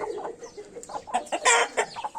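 Chapar breed hen clucking in quick, uneven bursts close by, with one louder squawk in the middle, on a farm.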